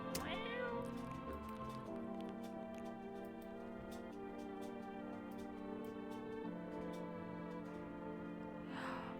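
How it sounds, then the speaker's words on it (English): A cat meows in the horror video game No, I'm Not a Human, a long, drawn-out caterwauling call over a droning musical tone, with a brief scratchy rustle at the end. "Feed the cat some cat food."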